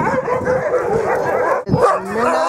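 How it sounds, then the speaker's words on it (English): A pack of sled dogs near Longyearbyen above the Arctic Circle barks, yips and whimpers excitedly in a close, continuous chorus, with sharp overlapping cries. "I don't mind the dog."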